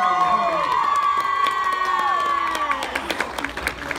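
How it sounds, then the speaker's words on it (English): A crowd cheers and claps loudly, with whoops and high shouting voices layered over scattered applause. "Give a round of applause for that."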